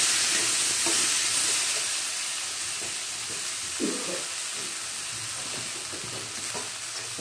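Boiled chickpeas are stirred and fried in a pan with curry leaves, giving a steady close sizzle with scattered scraping stir strokes throughout.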